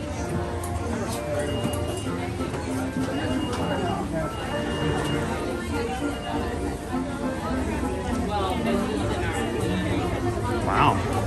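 Dense crowd chatter fills a busy Magic Kingdom theme park, a steady babble of many overlapping voices with shuffling footsteps and scattered background noise, continuous and moderately loud throughout.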